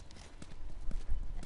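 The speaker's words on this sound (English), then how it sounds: "You guys have horses. We got a whole lot of them." Horses in a video game clip-clop on hard ground, their hoofbeats coming in a steady, uneven run of sharp, close thuds.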